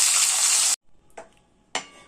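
Pieces of bitter gourd dropped into hot oil, a loud sizzling burst that cuts off abruptly, followed by two shorter sizzling bursts after a near-silent pause.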